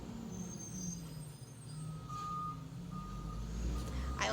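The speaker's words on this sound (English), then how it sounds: "there's a trash truck going by." A trash truck rumbles by outside with a low engine drone that builds steadily, and a few faint high reversing beeps sound near the end, heard from indoors with no talking.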